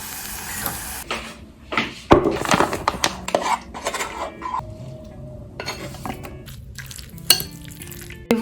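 Cooked beans and tomatoes are stirred in a pot: a spoon scrapes and knocks against the pot in loud, irregular strokes, mixed with soft wet squelches of the thick mixture, and no one talks.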